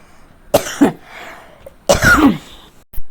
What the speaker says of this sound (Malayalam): പെട്ടെന്ന് ചുമ വന്നതാണ് കേട്ടോ